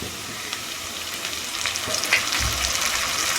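Ginger, garlic and green chilli paste dropped onto frying onions gives a close, bright sizzle that swells midway with crackling spits, steady to the end, no talking.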